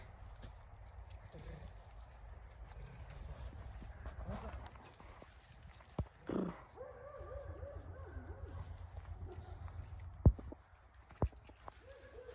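Horses' hooves clopping on a hard surface nearby, with a dog whimpering, a brief voice and a couple of sharp knocks.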